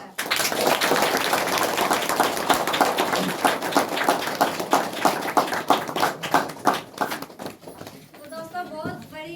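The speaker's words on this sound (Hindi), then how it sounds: "आप लोग थोड़ा ताली बजा दीजिएगा।" Audience at a business-plan seminar claps for two named uplines, dense applause that thins into scattered claps and fades as a voice resumes talking.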